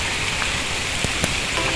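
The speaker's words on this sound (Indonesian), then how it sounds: "Hujan cukup deras kawan-kawan." Heavy rain falling at the Margarana memorial park in Bali, a dense, even hiss of downpour with occasional sharper drop impacts, steady and close without speech.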